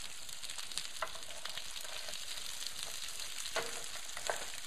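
Duck breast cooking in a casserole makes a faint, even sizzle with scattered small pops and light clicks.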